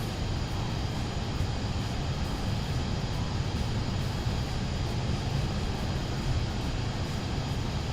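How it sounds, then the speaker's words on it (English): The twin jet engines of a PC-24 run at takeoff thrust in Microsoft Flight Simulator 2024, producing a steady, dense roar and rumble that holds constant throughout without talking. "Takeoff thrust set."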